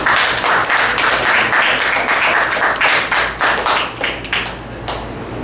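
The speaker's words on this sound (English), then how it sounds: "Please give a round of applause." An audience at a Toastmasters youth speech contest gives a contestant a strong round of applause, dense and steady claps that loosen into separate hand claps and fade toward the end.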